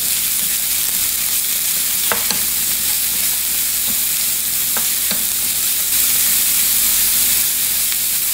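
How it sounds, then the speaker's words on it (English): Cabbage and carrots stir-fried in a pan for chicken adobo, a steady close sizzle and hiss with a few sharp scraping clicks of the utensil against the pan, and no voices. "So just kind of get this so that it's softened, the cabbage and the carrots."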